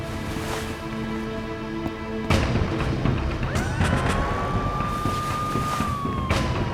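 A police siren wails steadily in the distance with its rising and falling tone, over ambient street noise and a low hum.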